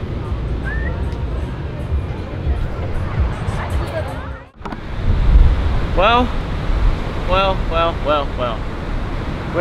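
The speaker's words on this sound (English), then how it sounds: "Waves are pumping." Ocean surf rolling in at Pipeline during the first winter swell, a steady broad wash of waves with wind noise, a brief dip midway, and crowd voices and whistle-like calls over the surf.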